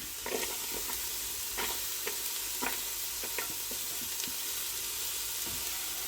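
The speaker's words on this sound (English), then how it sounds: "we'll just let that saute off gently" Finely diced small onion sautéing gently in a Ninja multi-cooker pot, a soft steady sizzle broken by light clicks and scrapes of stirring, with no talking.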